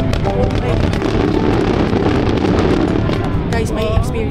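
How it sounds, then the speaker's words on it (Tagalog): Fireworks in Japan boom and crackle amid a loud, dense rumble of crowd noise and wind buffeting the microphone, with sharper bursts near the end. "Fireworks dito sa Japan. First time namin."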